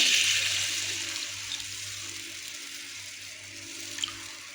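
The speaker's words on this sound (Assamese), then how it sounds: "এতিয়া মই জোখত পানী দি ল'ম" Water pours in a rushing stream into a cooking pan of fried fish for curry, gradually tapering off, with a faint clink near the end.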